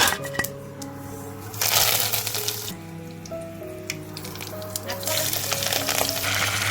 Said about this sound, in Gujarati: ડુંગળીનો વઘાર દઈ દઈએ